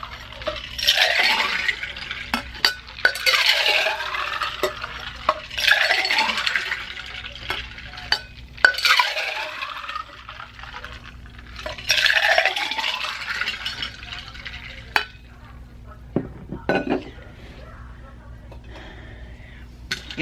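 A purple drink with edible dusting glitter being mixed back and forth, heard as rhythmic liquid swishes roughly every couple of seconds with small clinks and pauses between strokes.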